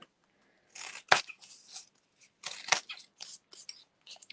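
Scissors snipping through folded paper to make snowflakes, several quick crisp cuts in short bursts separated by pauses, close and clear with no talking.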